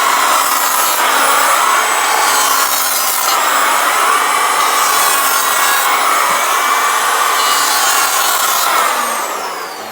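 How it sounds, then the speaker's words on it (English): Power planer shaving the flat edges off a wooden mast for a Woodlark boat build, a loud, steady, continuous whirring rasp held for the whole stretch with no talk. "doing some planing with the power planer, and I just planed off some of the flat edges"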